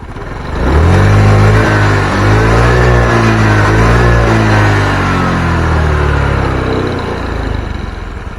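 A Honda Vario 110 scooter engine, just fitted with a new spark plug and a cleaned vacuum line, revs hard and close by, holding a high rising drone that sways between higher and lower pitch for several seconds, with no talking.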